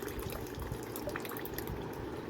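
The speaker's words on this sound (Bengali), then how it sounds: "এবার এটা আমরা জল দিয়ে দু তিনবার করে ধুয়ে নেব" Water swirls and sloshes in a bowl as an ingredient for mango kasundi is rinsed by hand, a soft continuous splashing that stays faint and close, with no voices.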